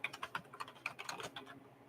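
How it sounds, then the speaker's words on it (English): Typing on a computer keyboard: a quick, irregular run of crisp key clicks, close but fairly quiet, with no talking. "Let me type it in for you, Ellie."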